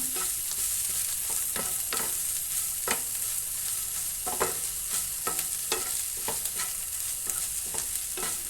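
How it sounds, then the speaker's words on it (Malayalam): Meat filling with coriander leaves being stirred and sautéed in a pan, a steady soft sizzle broken by repeated scraping strokes of the spoon, close and fairly even, with no talking. "ഇതും നമ്മൾ ഇതിൽ നിന്ന് വഴറ്റി കൊടുക്കണം"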